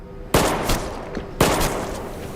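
Two loud bursts of gunfire about a second apart, each ringing out with a short echoing tail.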